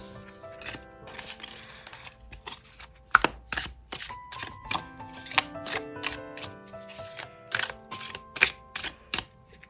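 Tarot cards are handled and drawn for a reading, giving crisp, close taps, slides and snaps that come in irregular clusters throughout, with quiet moments between and no talking.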